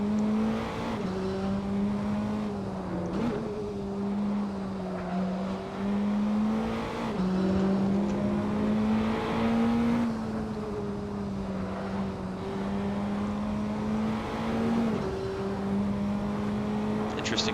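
Praga R1 race car engine in Assetto Corsa drones steadily through a hot lap, pitch rising and dipping with gear changes and throttle over a continuous loud tone, with someone talking over it.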